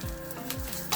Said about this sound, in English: And then the last step, fry up our radishes.